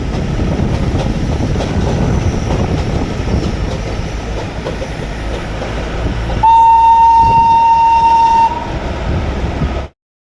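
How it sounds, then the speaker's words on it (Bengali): A train at Ghum railway station in Darjeeling rumbles and clatters on the rails, then a loud, sustained horn blast rings out for about two seconds before the rolling rumble carries on. "আমাদের গাড়িটার জন্য ট্রেনটা আটকে গেছিল।"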